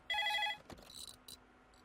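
A telephone bell rings once, a short loud electronic trill for about half a second, followed by faint clicks and quiet room tone in a movie scene.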